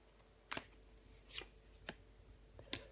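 A tarot card slapped down over the queen of swords card during a reading, heard as a few quiet, sharp papery taps and slides spaced apart, close and alone with no talk.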